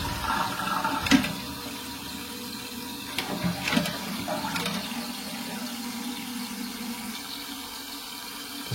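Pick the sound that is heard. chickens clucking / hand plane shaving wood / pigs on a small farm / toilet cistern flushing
toilet cistern flushing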